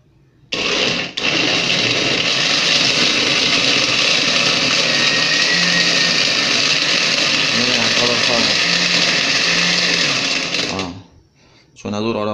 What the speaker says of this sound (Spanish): Empezamos a licuar.